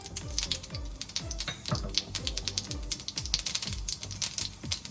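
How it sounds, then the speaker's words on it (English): Rapid, irregular crackling and popping, like mustard seeds spluttering in hot oil, dense and continuous throughout with sharp bright bursts. "Let the mustard seeds splutter. Once you hear them spluttering"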